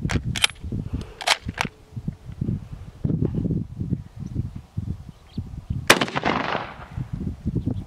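Guns fired at pumpkins outdoors, several sharp shots including two early cracks and a louder blast with a decaying tail near the end, heard over ongoing low rumble and handling noise.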